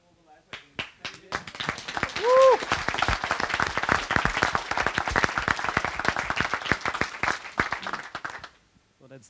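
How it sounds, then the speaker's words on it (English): Conference audience applauding at a closing panel discussion, clapping that swells in within a second, holds as a dense rattle of many hands and fades out toward the end, with a brief voice or cheer near the start. "I would just like to ask for a round of applause"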